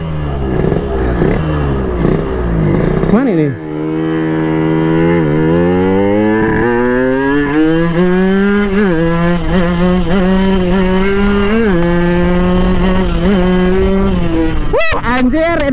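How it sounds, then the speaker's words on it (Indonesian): A two-stroke motorcycle engine, an old bike, revs loudly and close, its pitch sweeping up and down in repeated surges while someone talks over it. "Anjir, ini motor keren banget cuy"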